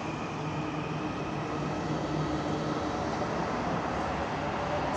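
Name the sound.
suburban train departing station in Ankara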